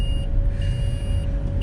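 Inside a car, an unfastened-seatbelt warning sounds as a steady high whine that holds for the whole moment over a low engine rumble.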